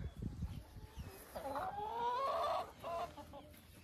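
Chickens cluck and squawk inside a coop, close and fairly soft, with rising and wavering calls in an irregular pattern over low background rustling.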